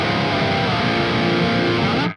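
An electric guitar runs through the overdrive pedal of the Neural DSP Archetype Gojira plugin, a single dense, gritty chord sustaining loudly before cutting off abruptly.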